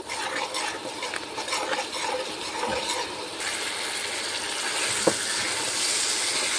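Fish curry with spices being stirred and fried in a pan, with scraping utensil strokes and a steady sizzle that grows brighter and denser partway through, close and continuous with one sharp clink near the end.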